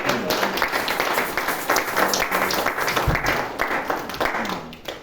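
A church congregation claps and applauds together in acclaim of the Lord, a dense, steady wash of many hands continuing throughout with a few scattered voices underneath.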